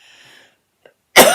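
A single sharp, loud cough bursts out near the end after near silence, preceded by faint low background noise and a tiny click.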